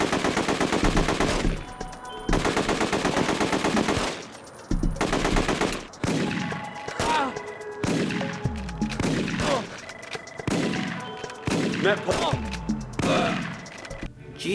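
Rapid machine gun bursts and repeated gunshots from the video game The Getaway, loud and sustained with short pauses between volleys and impacts mixed in.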